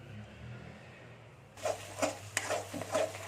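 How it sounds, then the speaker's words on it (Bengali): A ground paste of tomato, green chilli and coriander leaves fries in oil over a low gas flame, giving a soft, quiet sizzle. After a moment, several rhythmic scrapes of a spatula stirring the pan join in. "মশলাটা এবার আস্তে আস্তে আমি কম গ্যাসেতে ভাজবো"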